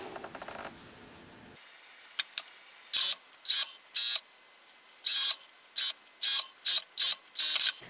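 A sewing machine basting a lining to a dress armhole runs in short, clattering bursts, about a dozen quick stitching runs separated by brief pauses, close and fairly quiet, with a few faint clicks between.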